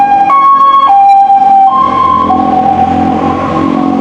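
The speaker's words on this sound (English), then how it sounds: "just the ambulance just passed now" An ambulance siren blares close by on a road in Thailand, alternating high and low tones before shifting pitch as it passes, with traffic rumbling underneath.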